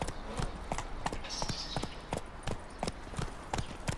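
Horse hooves clip-clop in a steady, even rhythm as a rider travels on horseback in The Witcher 3, moderately close and fairly soft, with a faint airy tone above and no speech.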